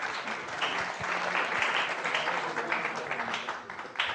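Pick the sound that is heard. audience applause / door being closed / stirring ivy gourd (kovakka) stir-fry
audience applause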